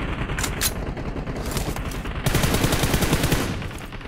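Gunfire from a Santorini team deathmatch in a video game: rapid automatic bursts crackle almost continuously, growing denser and louder in the second half, with no talk.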